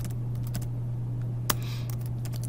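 Typing on a computer keyboard gives a few sparse, distinct key clicks, one sharper tap standing out midway, over a steady electrical hum in a quiet room.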